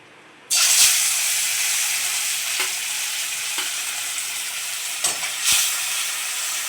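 Rupchanda fish slipped one by one into hot salted oil in a kadai, bursting into a loud, steady sizzle after a moment of quiet, with a few sharp spattering crackles along the way.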